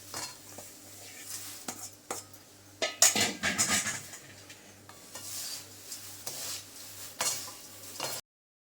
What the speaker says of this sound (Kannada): ಆ ಪೇಪರ್ ಅವಲಕ್ಕಿ ಏನು ತೊಗೊಂಡಿದ್ದೀನಲ್ಲ ಅದನ್ನು ಹಾಕ್ಕೊಂಡು ಸ್ವಲ್ಪ ಹುರ್ಕೋತೀನಿ